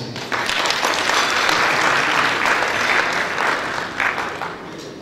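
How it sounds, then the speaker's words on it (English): Wedding guests applaud the couple at a reception, a sustained wave of dense clapping that swells quickly, holds steady and tapers slightly near the end, heard close and loud with no one speaking. "Let's give them an applause."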